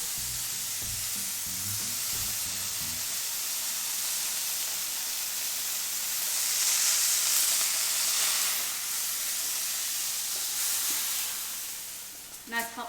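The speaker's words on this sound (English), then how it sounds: "Hear that sizzle?" Steak sizzles in a hot pan with a steady bright hiss that swells in the middle, with a few low knocks and handling sounds near the start and a brief clatter at the end.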